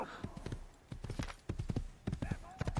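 Horse hooves clip-clop in a steady galloping rhythm during Assassin's Creed gameplay, loud and close, with spoken voices running over the hoofbeats.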